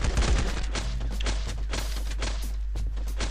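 Rapid video-game gunfire from LifeAfter rattles almost nonstop, loud and close, with dense overlapping shots and bursts filling the whole stretch and no talk over it.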